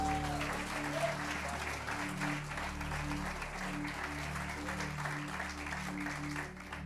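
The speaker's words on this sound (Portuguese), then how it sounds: "Vamos aplaudir a Jesus?" Sustained applause from a large church congregation, continuous clapping over a steady low musical drone.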